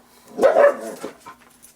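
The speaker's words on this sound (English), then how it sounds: "There's some consternation from my dog." A pet dog gives a short burst of muffled barks and whimpers, fairly close and loud for under a second, then fades into softer whines, alone without talk.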